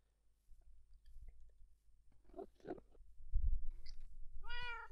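A cat in the Minecraft video game gives a short, clear meow at the end, after some soft shuffling and crunching game sounds, with no talking.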